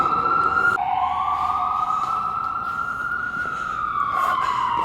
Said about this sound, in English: these sirens outside in the street are probably a perfectly fitting soundtrack for this